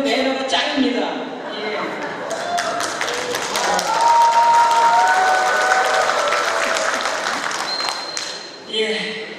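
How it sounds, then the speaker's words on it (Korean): A large crowd of political party members applauds steadily for several seconds at a party education event, a dense, loud wash of clapping that fades near the end as a voice resumes. "우리가 박수를 쳐줄 줄 몰랐네요."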